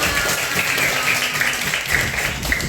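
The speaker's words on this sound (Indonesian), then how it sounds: "Oke, tepuk tangan untuk kalian semua." A school class claps together in a brief burst of applause, a dense patter of many hands in a classroom, steady and fairly close for a few seconds.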